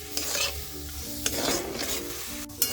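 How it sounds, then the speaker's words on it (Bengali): Shelled apple snails (googli) stirred in a pan for a traditional ghonto, a close scraping stir over steady sizzling with a few sharp clinks of the utensil against the pan. "অল্প পরিমাণে গুগলি ছাড়িয়ে দিয়ে সেইভাবে নাড়িয়ে চাড়িয়ে একটু অপেক্ষা করব"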